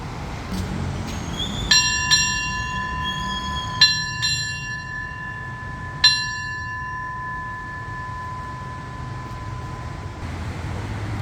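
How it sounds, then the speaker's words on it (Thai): A bright railway station bell rings out in a few separated strikes, each tone lingering, over the low hum and hiss of early-morning rain at Makkasan station, Bangkok, as a train approaches. "เสียงระฆังสีดังแล้วก็รอขบวนรถเข้าสู่สถานีครับ"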